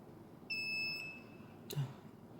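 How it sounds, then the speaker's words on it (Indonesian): An Arduino buzzer gives one steady, high electronic beep lasting about a second when an RFID tag is read, followed by a short click, all fairly quiet against a faint background hiss. "kemudian LED dan buzzer menyala"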